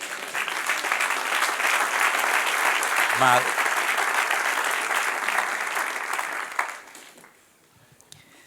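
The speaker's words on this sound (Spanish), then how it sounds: "Den un aplauso al que reina." A church congregation applauds loudly and steadily during a Bible history class led by a pastor. The clapping holds for about six seconds and then fades out quickly, and a voice briefly speaks over it.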